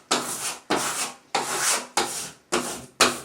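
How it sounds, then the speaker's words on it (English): Squeegee rubbed firmly across a vinyl decal on a wall, six loud close scraping strokes in a steady back-and-forth rhythm, each a short rasping swipe, with no voice. "rub it onto the wall, and then take your squeegee or flat object that you're using"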